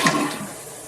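A toilet flushes with a close rush of water that is loudest at the start and then fades steadily over under a second.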